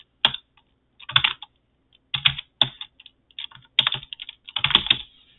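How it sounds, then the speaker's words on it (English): Rapid bursts of typing on a computer keyboard, close and clear, arriving in short irregular clusters separated by brief pauses, with no voices. "then I can start typing"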